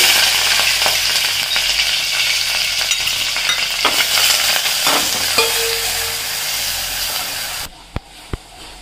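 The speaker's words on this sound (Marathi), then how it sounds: "आता आमटीला फोडणी देते मी" Hot oil sizzles and crackles steadily as cumin, curry leaves and coriander paste fry for tempering a dal, with a few clinks from stirring, then the sizzle drops away near the end leaving two sharp taps.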